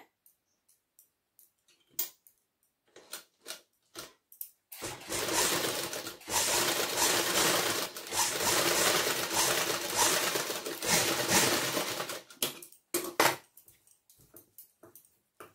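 A sewing machine stitches the back neck of a kurti, beginning with scattered clicks and ticks, then running in a steady close whirring burst of about eight seconds with brief pauses, ending in more isolated clicks.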